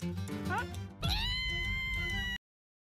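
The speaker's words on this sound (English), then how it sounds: "A very cute cat." A cat meows twice, a short rising mew followed by a longer drawn-out one, clear and close.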